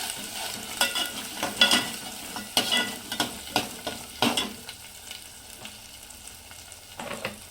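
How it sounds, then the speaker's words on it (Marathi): A spoon stirs Kashmiri chilli powder and turmeric through a sizzling home-ground spice mix in a pan, giving repeated scraping strokes over a soft, steady frying hiss, with no talking. "काश्मीरी मिरची पावडर आणि हळद। ह्याला खालीवरी करून घ्यायचंय।"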